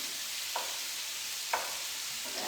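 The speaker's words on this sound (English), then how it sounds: "I'm gonna give my shrimp a little stir here." Shrimp sizzle in a hot pan for chili shrimp with snow peas, a steady bright hiss broken by two or three soft scraping stirs, no talking.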